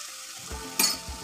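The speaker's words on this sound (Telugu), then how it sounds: "పెసరపప్పు కూడా చక్కగా నూనెలో" Moong dal sizzling in hot oil in a pan for a brinjal and potato curry, a short soft fry with a brief brighter hiss midway, close and with no voices.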